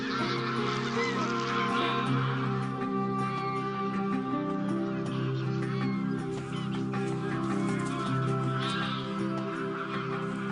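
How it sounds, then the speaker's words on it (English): A flock of greylag geese honking continuously over marshland, overlapping calls close by and fairly loud against a steady outdoor background. "Grey-lag geese fly in for breakfast to search the rich marshland areas."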